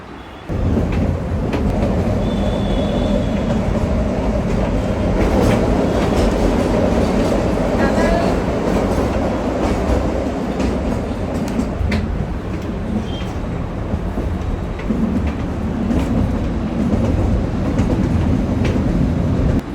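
The Kalka-Shimla toy train rolls along the rails with a loud, steady rumble and rhythmic clatter that carry on without a break throughout, heard from on board.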